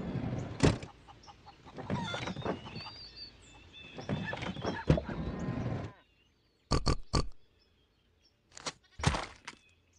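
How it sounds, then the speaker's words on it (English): A pig grunts and snorts in a children's first-animals game: a dense, rough stretch of grunting, then a pause and a few short, sharp knocks. "Pig."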